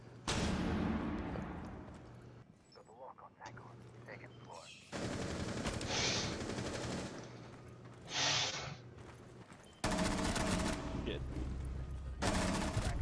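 Shotgun blasts and gunfire ring out in a fast-paced shooter video game, loud bursts in several dense blocks with excited voices talking over the action.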